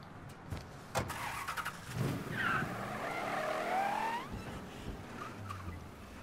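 A car drives in the open-world game Mafia III, with a rising engine whine and a brief tire squeal building through the middle. Short knocks come first and a low hum follows at the end.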